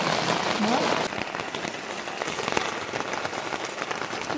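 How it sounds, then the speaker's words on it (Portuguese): Rain falls on a tarp at a riverside fishing campsite, a dense, loud, constant patter and drumming throughout with no clear speech. "E é chuva, garoto!"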